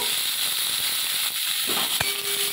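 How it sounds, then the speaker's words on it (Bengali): Cut potatoes fry in oil in a kadai, a loud close steady hiss with a few sharp crackles and one bright pop near the end, no voices. "এখানে আলু কাটাটা আছে, আমি ওইটা কড়ার মধ্যে দিয়ে দিলাম। আলুটা ভালো করে ভেজে নেব।"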